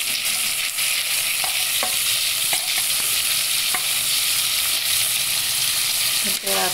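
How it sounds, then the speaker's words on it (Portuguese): Beans stirred into a hot pan of browned ingredients, a steady loud sizzle of frying with scattered scraping clicks of the spoon throughout. "Agora aqui eu já vou acrescentar o meu feijão"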